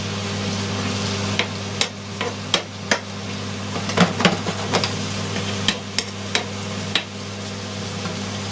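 Onion and minced meat brown in a hot pan for cottage pie, giving a constant close sizzle and hiss broken by sharp clicks and taps as a spoon stirs and knocks the pan.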